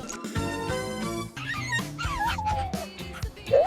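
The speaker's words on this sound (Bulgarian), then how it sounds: "Ох, какво сладко кученце!" A small puppy whimpers and yips in short, high-pitched whines mixed with tonal background music, close and fairly loud over a few seconds.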